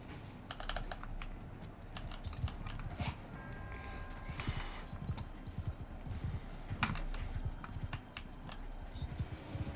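Horse hooves clip-clopping in the Mount & Blade 2 Bannerlord video game, a rapid continuous run of clattering hoofbeats mixed with dense battle noise and clicking, loud and busy with no clear speech.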